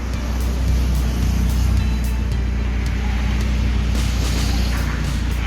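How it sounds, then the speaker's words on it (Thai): An Audi TT engine idles after a remote keyless start, a loud, steady low rumble heard close by with some faint ticking and light clicks on top, and no talk. "รถได้ทำการสตาร์ทแล้วล็อกให้นะครับผม"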